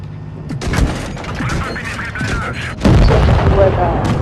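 Tank cannon fire in the World of Tanks video game, loud booming blasts and rumbling battle noise layered continuously, with a heavier explosion near the end.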